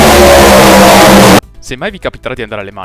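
Hypercar engine revving loudly at the Le Mans circuit, a sustained roaring blare for over a second that cuts off abruptly, followed by someone speaking.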